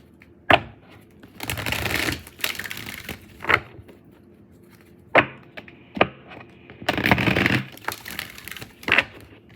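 A deck of tarot cards gets shuffled up close in several bursts of riffling flutter, separated by sharp taps and knocks of the cards against a surface, with no talking.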